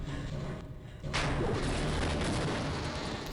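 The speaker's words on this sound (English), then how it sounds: "That was not meant to be an explosion." Sudden loud explosion in Half-Life erupts about a second in after a quieter moment, its broad roaring blast sustaining and rumbling on for several seconds without any voice.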